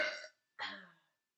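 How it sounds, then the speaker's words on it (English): Two burps from a girl, the first long and the second a moment later after a short silence, both loud and close with nothing else heard. "Oh, I think I'm gonna burp."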